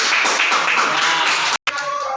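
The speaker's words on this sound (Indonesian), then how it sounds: "Tepuk tangan untuk kelompok ini." A group of students in a classroom is applauded during a civics lesson, steady dense clapping for about a second and a half before a brief gap and another short burst, with some voices mixed in.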